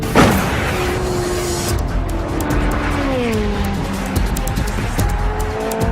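A Ferrari F430 Scuderia sports car drives hard, its engine note rising and falling through gear changes with sharp bursts of tyre noise, loud and close throughout.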